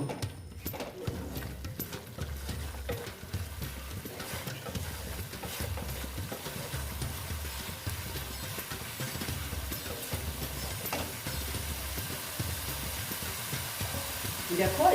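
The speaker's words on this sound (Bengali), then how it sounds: "কাজু বাদাম বাটাটা দিলাম দিয়ে একটু আবার ভালো মতন কষিয়ে নেব" Cashew paste and soybean curry being sautéed and stirred in a pan, a steady low sizzle with rhythmic scraping and stirring knocks repeating throughout, fairly quiet and continuous.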